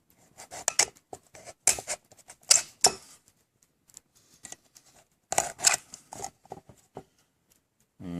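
A Stanley 10-049 pocket knife scores and slices through material in short, crisp bursts of scraping cuts, close and clear, separated by quiet pauses.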